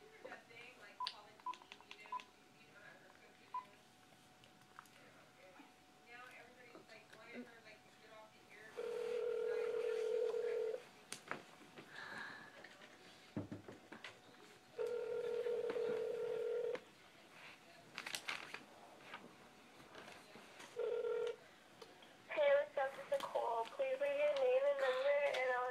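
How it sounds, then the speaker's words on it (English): Telephone keypad tones beep in short series as a number is dialed on a phone for a prank call, interspersed with longer steady tones and quiet nearby chatter and giggling from kids. "We're prank calling my friend Nicole."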